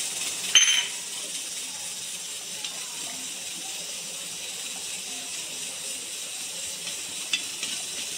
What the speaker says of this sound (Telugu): మనం చేస్తా ఉండే షుగర్ సిరప్ అనేది బాగా మరుగుతూ ఉంది.